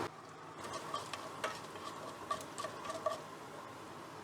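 Mustard seeds and split urad dal pop and patter in hot oil in a pan while upma is being made. Quiet, irregular crackles and small bursts come from close by, with no voices.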